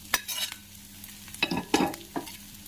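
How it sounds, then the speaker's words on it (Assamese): Garlic, onion and cut potato fry in a pan with a close sizzle, while a utensil scrapes and stirs in short, uneven bursts. "এতিয়া মই এইখিনি ভাল ধৰণে ভাজি লওঁ।"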